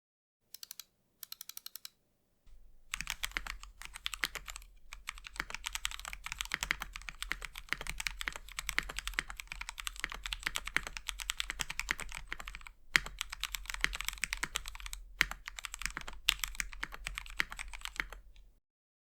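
Steady typing on a stock Mojo 68 mechanical keyboard, dense clacky keystrokes heard up close, with a brief pause near the start and another short break midway.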